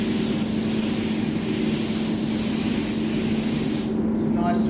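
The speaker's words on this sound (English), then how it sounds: "I want the base coat to go into a wet surface." A spray gun lays a heavy, wet yellow metallic base coat onto a car panel, giving a loud, steady airy hiss that runs unbroken through the whole stretch before easing near the end.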